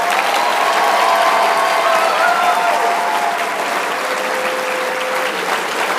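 Applause fills an awards ceremony hall, a dense, loud, sustained roar of many hands clapping together, with faint tonal hums running beneath it.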